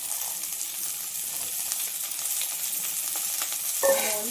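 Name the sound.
field beans (avarekalu) frying with onion in oil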